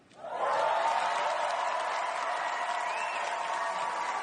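An audience claps after an on-stage speech at a live event, with dense, steady applause swelling in quickly and then holding at a loud, even level throughout.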